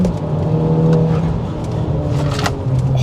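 A tuned stage 2 Audi S3 hot hatch of about 400 bhp, fitted with a Golf R exhaust, accelerates hard. A steady, loud engine drone and exhaust note run through the whole stretch with no talk.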